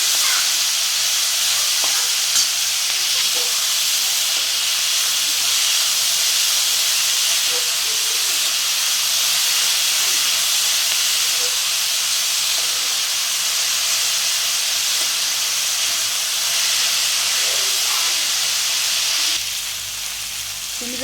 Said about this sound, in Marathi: गॅसची फ्लेम कमी ठेवायची आणि कांदा सतत परतत राहायचं